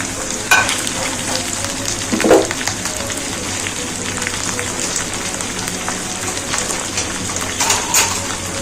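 Goat brain (bheja) frying with spices and onion in a pan, a loud continuous sizzle with occasional clatters of stirring and a faint background hiss like rain.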